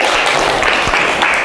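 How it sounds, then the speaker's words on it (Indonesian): An audience in a classroom applauding: a loud, dense patter of many hands clapping at once, steady for a second and a half. "Tepuk tangan untuk kita semua yuk"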